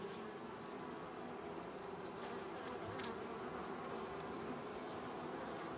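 Africanized honeybees buzzing at an open hive, a steady, dense swarm hum that stays even and fairly faint throughout, with no voices.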